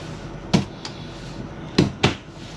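A narrow hallway door in a 2013 Tiffin Allegro Breeze 32BR Class A diesel pusher motorhome being worked, with several sharp knocks and clunks at separate moments in a quiet interior.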